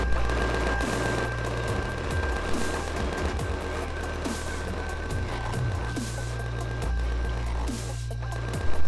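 Sustained gunfire in Empyrion: Galactic Survival, rapid automatic bursts repeating steadily for several seconds at a moderate distance, with a constant engine-like drone and a high whine underneath and no talking.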